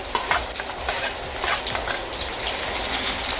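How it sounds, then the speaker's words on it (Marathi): Chopped onion dropped into two spoons of hot oil in a heated kadhai, frying with a loud, dense crackling sizzle and stirring, close up and without speech. "तर फोडणीला मी आता कांदा टाकते"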